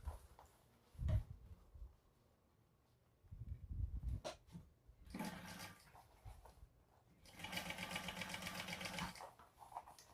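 A sewing machine top-stitches a fabric bucket bag in two sustained runs of steady, rapid needle chatter, close and fairly loud, separated by quieter pauses with small handling bumps.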